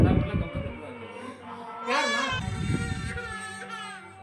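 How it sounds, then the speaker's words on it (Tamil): A baby girl cries in bursts at a crowded temple before a head-shaving ritual, with wailing bouts rising and fading against a busy background of people. "பாப்பா தான் ரொம்ப அழுதுகிட்டே இருக்கா."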